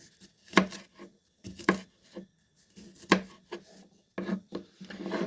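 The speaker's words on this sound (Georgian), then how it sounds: "არ ვჭრი წვრილად, ვჭრი ესეთ მოგრძო ზომებად" A knife slices a pungent onion into long strips, giving close, crisp chopping strokes in uneven clusters of two or three with short pauses between them.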